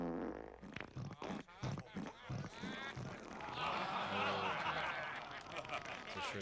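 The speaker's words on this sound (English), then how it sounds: "It's a shirt that makes fart noises." A novelty shirt lets out a run of short, sputtering fart noises followed by a longer rasping blast, fairly close and loud, with people talking and chuckling around it.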